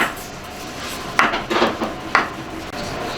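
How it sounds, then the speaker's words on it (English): Ginger slices dropped into a pan of sugar and sake, a few distinct clattering knocks and scrapes against the metal standing out over a low steady background. "Slice the ginger, put it in here"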